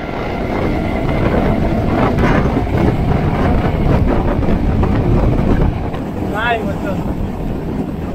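A local train pulling away from Kadamgachi towards Hasnabad in West Bengal, with a loud, continuous rumble and heavy wind buffeting the microphone. A brief whistle-like tone rises near the end.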